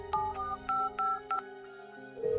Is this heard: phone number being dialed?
yes